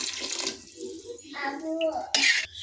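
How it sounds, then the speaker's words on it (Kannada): Water splashes into rice in a cooking pot for pulao in two short noisy bursts, separated by stretches of talking, with a voice among the speakers. "ನೀರು ಹಾಕಿದೆ"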